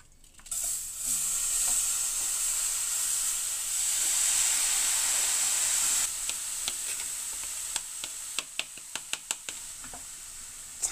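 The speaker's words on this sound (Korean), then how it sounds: "겉만 볶으면 안 되고 참깨 속까지 잘 볶아야 됩니다." Steady sizzling hiss of a large batch of sesame seeds roasting in a hot pan, with a scrape of stirring and a run of small crackles and pops toward the end.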